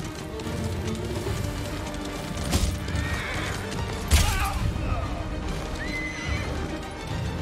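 A horse in the Ghost of Tsushima video game gives a neigh, with clip-clopping hooves over steady rain; the horse's calls come in short bursts, and a voice speaks over part of it.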